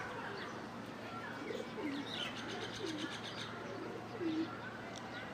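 A red checker racing pigeon, a male club bird, gives several soft rolling coos close by, with faint chirps and a low steady background hum.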